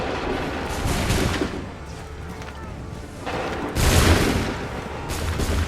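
Musket volleys in Assassin's Creed 3 crack out in broad booming bursts, one around the fourth second standing out loudest, set against a continuous din of battle with shouted commands mixed through it.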